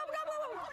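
Heritage breed turkeys from a flock of about 1,300 on an 800-acre Virginia farm give one short, rippling gobble, fairly close and loud, with no talk over it.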